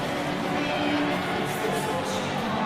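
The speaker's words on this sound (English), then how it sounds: "As you can see, the crowd seem to get hyped up here" Arena crowd in a WWE 2K25 wrestling game roaring and cheering in a steady, dense wash of noise that holds at an even level throughout.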